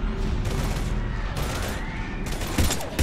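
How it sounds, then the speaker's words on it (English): Heavy gunfire in the Mass Effect 3 opening as the Reapers invade Earth, steady loud bursts under a dense battle mix with faint tonal whooshes. "We're taking heavy fire."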